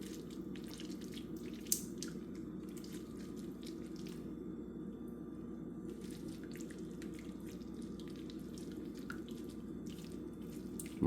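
Juice running and dripping from squeezed cherries as syrup is made: a steady, faint trickle of liquid with scattered small drips and splashes, close up and without talk.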